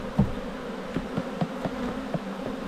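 Honeybees buzz in a steady, quiet hum from an opened, abandoned and never-inspected beehive, with a few soft taps and knocks against the frames.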